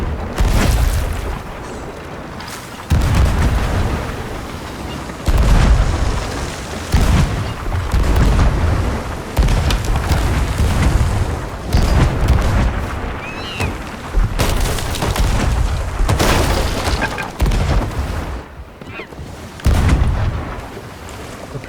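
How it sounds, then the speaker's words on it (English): Cannon fire during a pirate galleon battle in a video game, a series of heavy booms spaced every few seconds, loud and close, each followed by a decaying rumble under a constant background din. "Big cannonballs do these guys have?"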